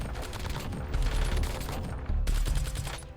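Rapid automatic gunfire from a weapon in a video game, bursts of fast shots rattling loudly and close, with a brief break near the end before firing resumes.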